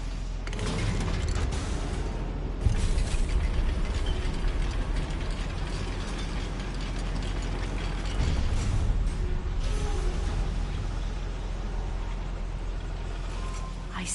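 A goblin mine lift mechanism in Hogwarts Legacy grinds along steadily with ratcheting, gear-like clanks and creaks over a dense, continuous rumble, with a few louder knocks along the way.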